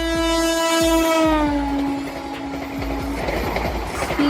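An Indian Railways express train, a sixteen-coach fully air-conditioned chair-car service linking Delhi with other cities, sounds a long horn blast and then rumbles past with steady clickety-clack wheel beats, loud and close, with no voices.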